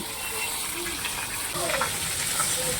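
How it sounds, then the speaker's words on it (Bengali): Fish frying in a home kitchen gives a continuous hissing sizzle at moderate level, with faint background kitchen noise. "এখানে এখন চলছে মাছ ভাজা"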